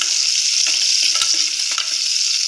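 Horse gram frying in a pan, a loud, dense hiss of hot oil with faint stirring taps underneath, steady throughout and without any talking.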